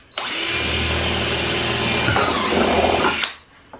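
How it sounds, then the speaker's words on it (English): A power drill bores holes while a Highlifter snorkel riser kit is fitted to a Polaris Sportsman 850, giving a loud, continuous whine lasting about three seconds, with a pitch shift midway before it spins down. "Scott, I don't think those holes are big enough."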